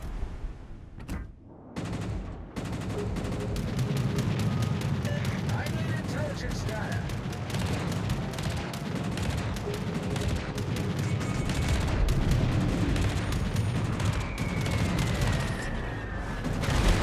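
Rapid gunfire crackles through a video game battle, with dense, continuous volleys of sharp shots and booms layered over a rumbling background, while voices speak intermittently over the din.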